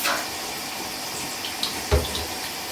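Water runs steadily from a tap while conditioner is rinsed out of crochet braid hair, a continuous close wash with a brief splash or knock partway through.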